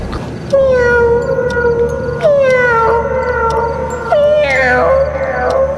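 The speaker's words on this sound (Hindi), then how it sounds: "सोमी ने अपनी आंखें बंद की तो उसे किट्टी के रोने की आवाज सुनाई दी।" A cat cries out in three long, wavering wails, each rising then sliding down, loud and close with a faint hum underneath.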